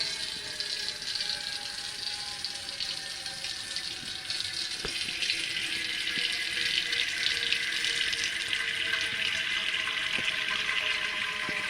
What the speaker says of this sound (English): First step, fill the water.